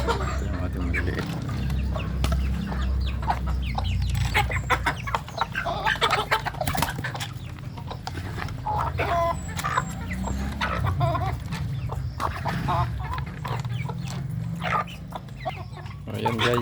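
Native chickens cluck and squabble while feeding, a busy, continuous farmyard chatter of hens over a steady low background hum, with nearby voices talking in places.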